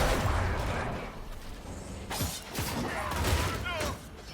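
Explosions and combat effects in the video game Dragon Age Inquisition come as several sharp bursts and whooshes in close succession over a dense, busy game soundtrack.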